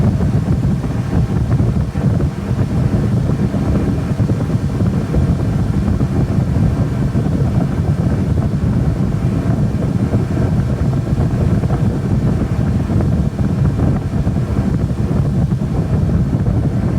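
A Dodge radiator electric cooling fan, an OEM unit compared against a Four Seasons replacement, runs steadily up close with a loud, even whooshing roar and no talking.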